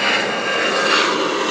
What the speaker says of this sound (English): Taking off on the same runway.